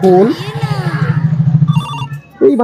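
A telephone rings in a brief buzzing burst that comes between voices at the start and end.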